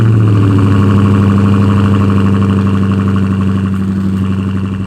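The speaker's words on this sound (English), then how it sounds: "I've been letting the car idle here for about a minute or so now, but take a look at how this thing sounds." A 2020 Dodge Charger Scat Pack Widebody idles up close, a loud, deep, steady burble with a fast rhythmic pulse that eases off slightly toward the end, with no talking.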